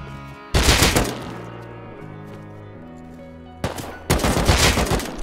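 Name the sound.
gunfire in the video game Rust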